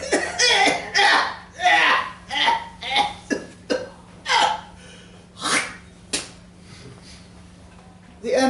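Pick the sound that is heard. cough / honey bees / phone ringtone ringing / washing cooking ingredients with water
cough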